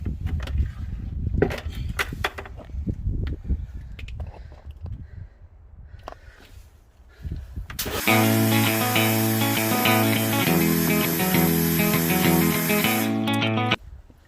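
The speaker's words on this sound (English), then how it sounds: "So let's give it a final rinse." Water spray rinsing a car wheel, an uneven hissing, splashing spray in bursts for several seconds, after which music takes over.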